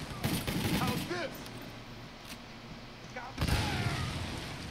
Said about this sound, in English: Ooh, that was a good grenade